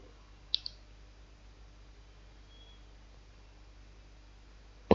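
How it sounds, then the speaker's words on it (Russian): A computer mouse gives two quick, quiet clicks early on and another sharp click at the very end, against a near-silent room. "я кликаю"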